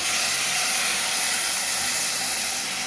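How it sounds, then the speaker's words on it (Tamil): Ground tomato paste hitting a hot pan while cooking prawn thokku, giving a loud, steady, broadband sizzle and hiss that runs unbroken throughout, with no voices. "இப்போ நம்ம அரைச்சி வச்ச தக்காளி எல்லாம் ஊற்றிக்கலாம்"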